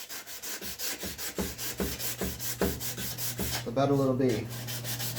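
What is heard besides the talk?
hand scraper scraping wood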